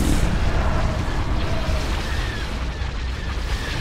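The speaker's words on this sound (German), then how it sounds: "Sobald es explodiert, kriegt alles Schaden." Dense rumbling blasts and booming explosions of ships in the video game Star Wars: Empire at War roll together into a continuous loud roar, with no clear gaps between them.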